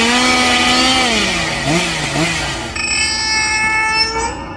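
A chainsaw roars in a scene from a Texas Chainsaw Massacre sequel film, a loud, buzzing engine whose pitch dips and wavers before steadier, tonal sounds take over.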